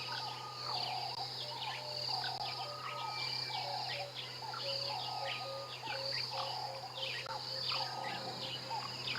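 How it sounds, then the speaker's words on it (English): Birds calling at sunrise around a dam in African bush, with grey-headed bush-shrikes, woodland kingfishers and starlings giving repeated chirps, whistles and trills over a steady drone of crickets and insects, busy and continuous throughout. "You can hear everything from grey-headed bushwhacks to woodland kingfishers, starlings"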